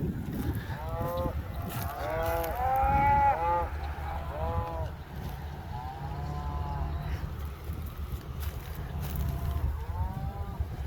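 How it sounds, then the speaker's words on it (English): Cows on a cattle drive near a creek moo repeatedly, a series of drawn-out calls at moderate distance spread across the stretch, over a low rumbling outdoor background. "We got the cattle drive. We're driving some cows."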